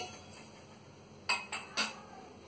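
A cooking pot set down on a lit stove in a home kitchen, heard as three close metallic clanks in quick succession with no talk.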